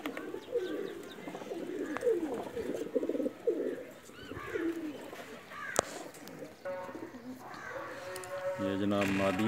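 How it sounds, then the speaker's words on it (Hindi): Pakistani flying pigeons coo repeatedly in a loft, soft throaty calls layered over one another at close range, with some louder rustling and a brief sharp noise partway through. "शर्मीला तूफ़ान कबूतर है जी, बहुत उड़ा हुआ है माशाल्लाह।"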